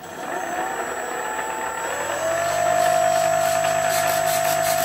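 Electric motor of a Flyzone Millennium Master RC plane spinning its propeller on the ground, a steady loud buzzing whine that rises in pitch and settles into a sustained drone partway through.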